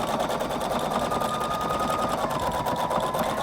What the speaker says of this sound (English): we're going to stitch over that section there.